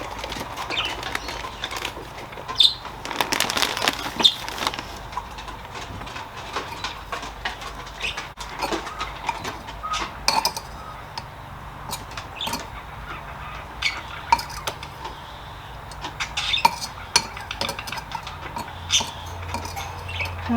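Potting soil without peat moss gets mixed by hand while repotting houseplants, giving a long run of irregular gritty rustles, scrapes and light patters close by, with no talking.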